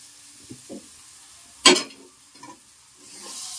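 Prawns are added to hot oil in a pan and stirred, a faint sizzle with a couple of soft taps, one sharp burst of spattering frying, then a rising hiss toward the end, with no speech.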